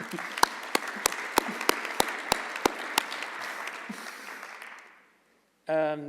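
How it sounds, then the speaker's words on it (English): Audience applause fills a euRobotics awards ceremony hall, a dense wash of clapping with sharp louder claps standing out in a steady rhythm, fading out after about five seconds, followed by a brief burst of voice. "we can all give an applause to Gianluca"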